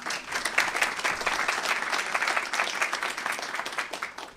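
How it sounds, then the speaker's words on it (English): Sustained audience applause at a signing day ceremony, a dense steady patter of many hands clapping, fairly close and even throughout with no talk over it. "I'd like to have an applause for them"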